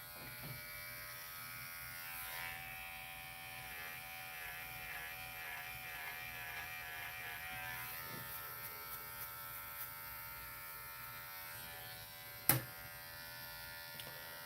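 An electric hair trimmer hums continuously during a haircut, a steady close buzz with slight shifts in pitch as it moves, and a sharp click near the end.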